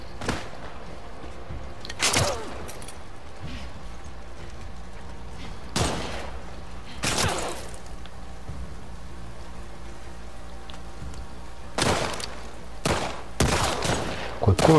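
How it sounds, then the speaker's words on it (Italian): Sniper gunshots in The Last of Us Part II, a handful of sharp, loud cracks spaced several seconds apart over a steady rain-like hiss, with voices talking at times. "Qualcuno ci spara dalla segheria."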